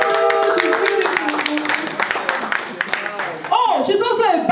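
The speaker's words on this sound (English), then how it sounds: "A round of applause." Conference audience at The Woman of Today Berlin inaugural event bursts into dense, steady applause for the Nigeria Association president, with a voice speaking over the clapping near the end.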